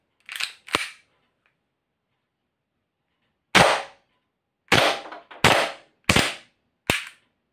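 Sharp airsoft gas pistol shots crack out alone: two quick shots, a pause, then five more snapping reports in an irregular rhythm, loud and close.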